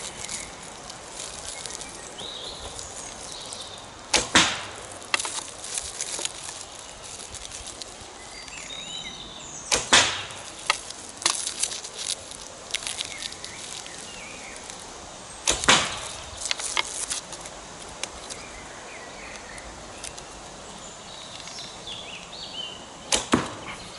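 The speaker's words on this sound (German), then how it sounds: "So, ich schieße jetzt einfach mal 5 Schuss." Five arrows are shot from a Kaya KTB carbon horse bow, each a sharp snap followed by brief rattling, ringing out at intervals over a quiet outdoor background with faint insect and bird sounds.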